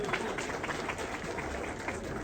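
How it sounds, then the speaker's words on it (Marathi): Audience applause at a hotel inauguration ceremony: a steady, dense wash of many hands clapping throughout, fairly loud and even, with faint voices mixed in. "एकदा जोऱ्यात तरी टाळ्या वाजवून जरा"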